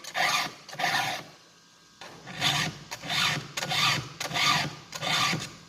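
Hand file rasping across a chainsaw chain's cutters in short even strokes, about seven scrapes with a brief pause after the first two, close and clear with no talking.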